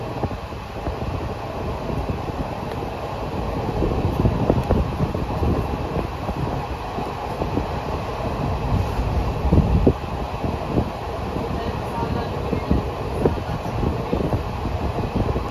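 Continuous rumble and rattle of a moving train from inside the carriage, with wind buffeting and clacking of wheels, steady and loud throughout, no talk.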